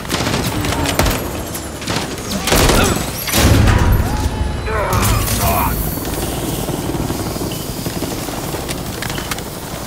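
Helicopter rotor drone in Call of Duty Modern Warfare 3 under dense bursts of gunfire, with rapid volleys and booms layered over the continuous aircraft noise and voices talking throughout.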